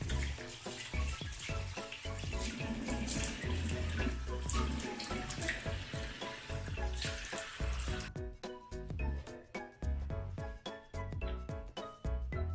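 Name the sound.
water running from tap, rinsing face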